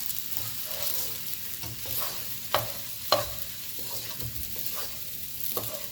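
Quinoa frying in a hot pan while being stirred, with a steady close sizzle broken by scraping strokes and a couple of sharper clacks of the utensil against the pan.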